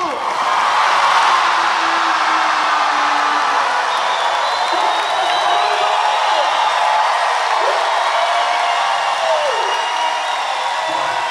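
An audience at a sold-out show applauds and cheers loudly, a continuous roar of clapping with whoops and shouts sustained for over ten seconds, with voices mixed into the crowd noise.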